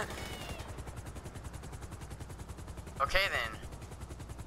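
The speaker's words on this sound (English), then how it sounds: "get in the helicopter" A helicopter in Grand Theft Auto 5 gives a steady, rapid rotor chop that pulses low and even throughout, while a person speaks briefly over it.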